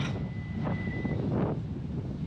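Strong wind buffeting a microphone on a hilltop beside a beach at Rushikonda, a steady broadband roar with gusts rising and falling throughout, loud and close, with no speech.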